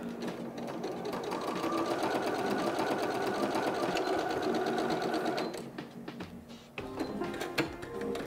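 Sewing machine stitching through quilted hot pads, a steady fast mechanical whir and needle chatter running for several seconds, then slowing and stopping with a few handling clicks near the end.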